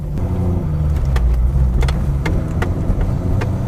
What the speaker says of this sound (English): Starts right up, which is great, and no big piles of smoke coming out the back either